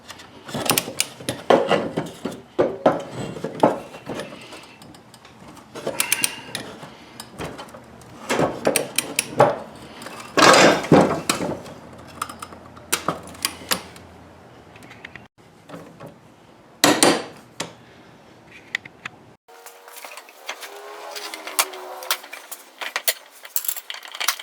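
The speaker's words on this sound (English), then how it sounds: "we'll go ahead and torque this to 65 foot-pounds or 88 Newton meters" Ratcheting torque wrench tightening a John Deere D105 riding mower blade bolt to 65 foot-pounds: bursts of rapid close clicks and metallic clatter, loud and irregular, with pauses between strokes and no talking.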